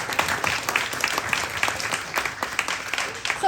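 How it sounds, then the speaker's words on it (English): An audience at a ninth-grade family welcome party gives a soft, steady round of applause, scattered claps blending into a moderate patter throughout. "let's give them a round of applause"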